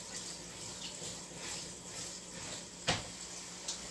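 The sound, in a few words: cold water running from a tap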